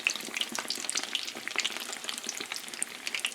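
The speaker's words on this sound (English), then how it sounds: "this should really only fry for like a minute or two" Cheddar and mozzarella sticks deep frying in hot oil give a dense, steady sizzle full of small crackling pops, close up and continuous with no talking.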